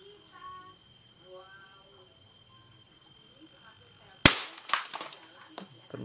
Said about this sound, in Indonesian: Elko di sana meledak, guys.